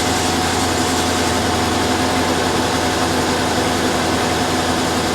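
A Mercedes S550 with an oil-soaked engine wiring harness runs just after starting, giving a steady, loud idle drone with an even whirring hum and no change in pitch.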